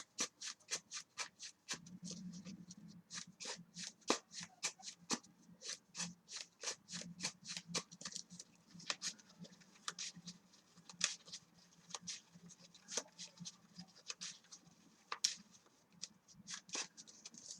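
A Yu-Gi-Oh card deck is shuffled by hand, giving a long run of rapid, crisp card riffles and flicks, close and fairly quiet, with a soft rubbing underneath and no voices.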